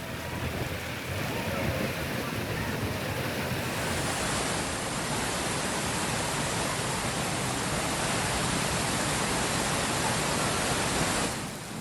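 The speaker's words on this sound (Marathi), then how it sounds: "महाराष्ट्राची चेरापुंजी अशी ओळख असलेली आंबोली धबधबा पर्यटकांना आकर्षित करतोय" The Amboli waterfall in Sindhudurg pours in full monsoon flow, a loud, unbroken roar of crashing water that stays constant from start to finish.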